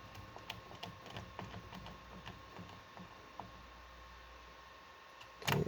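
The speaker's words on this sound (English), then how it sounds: "now I'm going to come back in with my socket up underneath. Tighten this down." A socket wrench tightens a bolt on a Rush pinball Signals mod: quiet, close, irregular ticking clicks of the ratchet repeat over a steady hiss, with a brief louder rattle near the end.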